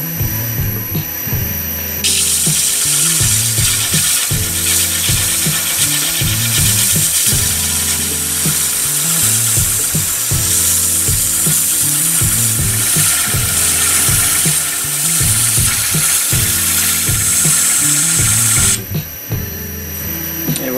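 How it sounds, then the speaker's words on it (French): An ash wood train whistle is sanded on a spinning lathe, giving a loud, continuous high whirring grind with a rhythmic rattling pulse that starts and stops abruptly, no talk over it. "Je vais donc poncer un petit peu le fond."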